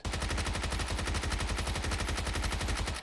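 Rapid automatic SMG fire from an MP5 and Vector in the video game PUBG, a loud, dense, unbroken stream of shots with a fast even rhythm throughout.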